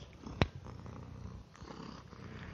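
A cat purring softly and steadily at close range in a quiet indoor room, the low rumble continuous throughout, with one brief louder knock near the start and no talking.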